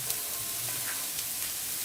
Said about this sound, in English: Time to add in the white spring onion and the normal onion which we have kept.